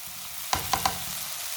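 Finely chopped cabbage is added to softened onions in a frying pan: a soft background sizzle, then three quick sharp knocks of a spoon against the pan in close succession.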